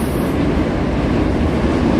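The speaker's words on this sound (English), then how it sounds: "train on the Manhattan Bridge, guys, continuously, of course" A subway train crosses the Manhattan Bridge in New York City, a loud, continuous rumbling roar of wheels on steel track that fills the whole stretch without letup.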